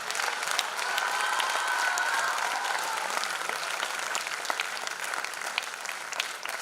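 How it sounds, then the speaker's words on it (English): Sustained audience applause at a Platinum Jubilee event, fairly distant and even, a broad wash of many hands clapping steadily with no voices over it, holding for several seconds. "She deserves a big round of applause"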